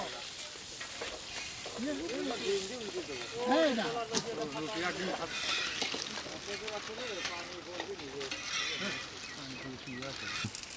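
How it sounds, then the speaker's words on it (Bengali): Oil sizzles steadily in a pan, ready for frying eggs and bread for a liver and egg sandwich. The moderate sizzle carries on under ongoing conversation. "তেল ডিম আর রুটি ভাজবো তো এখন তেলটা দিয়ে দিলাম"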